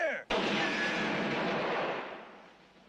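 A brief shouted voice gives way to a single loud crack from a firing squad's rifle volley in the 1977 film March or Die, which rolls out into a long echoing decay that fades over a couple of seconds.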